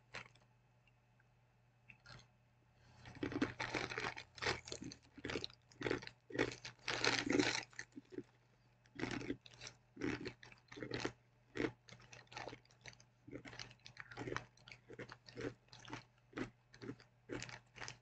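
Close-up chewing of a crunchy, seasoned rye snack from a Universal Yums Ukraine box: many crisp, rapid crunches in irregular bursts, heard alone in a quiet room.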